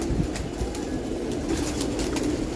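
Pigeons in a loft give a constant low cooing hum, many birds overlapping at close range with a faint rustle of movement and no talk.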